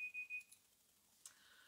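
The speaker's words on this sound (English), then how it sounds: "there's the timer" A timer alarm going off with a short, steady high-pitched electronic beep repeated two or three times, faint and alone, followed by quiet room noise.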